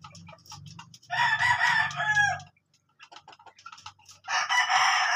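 A rooster crows twice nearby, loud drawn-out calls separated by a short pause, with softer clucking between them.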